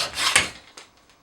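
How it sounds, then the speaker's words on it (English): Sandpaper rubs over the wood of a cigar box guitar neck with oak trim, one loud rasping stroke followed by a few fainter, shorter scrapes. "I'll then go back with sandpaper to remove any scratches in the wood."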